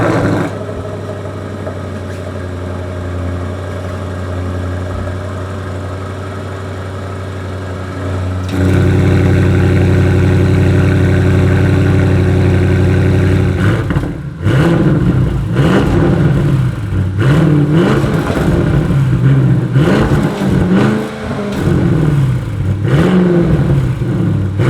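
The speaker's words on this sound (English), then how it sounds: "you heard it rev up, just some baby revs as it only goes to about 3 grand" An Audi RS6 Avant wagon with carbon fiber exhaust tips idles with a deep steady rumble, then fires into a louder drone and gets several short, close revs that rise and fall below about 3,000 rpm.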